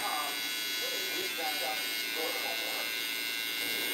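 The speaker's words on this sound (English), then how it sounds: "I just turn my clipper to the side" An electric hair clipper runs steadily through the whole stretch, a close, constant buzzing drone with someone talking over it.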